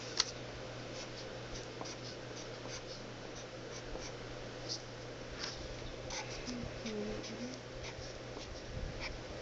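A pencil sketching angel wings on paper, with soft scratchy strokes and light taps up close, quiet and intermittent over about nine seconds.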